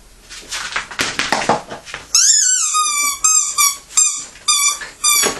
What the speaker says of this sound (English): The dog wants to go further with playing with her toys